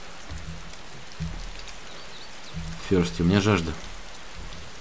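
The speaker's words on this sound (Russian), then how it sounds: "Да понятно, что дождь идет." Steady rain patters across the whole scene in DayZ Standalone, a soft continuous hiss running under two people talking.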